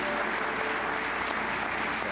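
Audience applause, a steady, dense patter of many hands clapping at an even level, fairly soft and without any voices.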